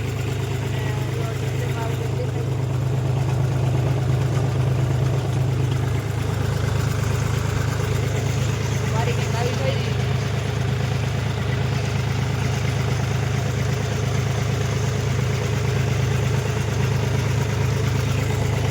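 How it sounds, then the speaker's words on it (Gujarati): A GPS-guided tractor sowing mung beans gives off a steady, continuous engine drone at an even level from start to finish. "અત્યારે જો આપણો ટ્રેક્ટર જીપીએસ માંથી હાલી રહ્યો છે"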